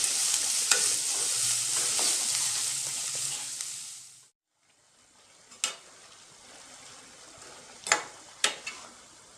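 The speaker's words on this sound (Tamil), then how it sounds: "இப்போ நம்ம வந்து கட் பண்ண வெஜிடபிள்ஸு போட்டுக்கலாம்." Cut vegetables stir-fried in a pan for vermicelli upma, heard as a bright sizzle for about four seconds that stops abruptly, then quieter frying with a few sharp scrapes and clinks of a spoon.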